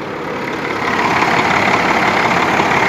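A Detroit 12.7 diesel engine idles in a truck after an engine swap, a steady broadband rumble that holds at a constant level and grows slightly louder after the first second, heard close with no voices.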